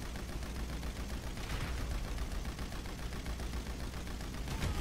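Rapid automatic gunfire aimed at a Buzzard helicopter in Grand Theft Auto V, a continuous dense burst of shots at steady loudness, with no voices.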